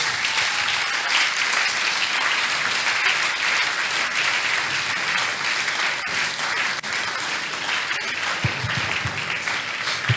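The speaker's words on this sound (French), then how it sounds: "tu acclames encore" Sustained, dense applause and cheering from a church congregation fills the space, steady and loud throughout, with a few low thumps near the end.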